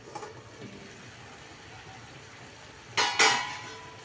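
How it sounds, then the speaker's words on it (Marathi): A metal lid comes off a cooking pan of raw papaya curry: after quiet room tone, two quick close clatters of metal ring out near the end. "जवळजवळ 20 मिनिटांनी मी आता ह्याचं झाकण उघडणार आहे"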